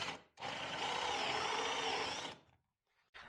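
A power drill fitted with a hole saw bores through a piece of scrap wood, a loud steady grinding whir lasting about two seconds, preceded and followed by brief quieter bursts of drilling.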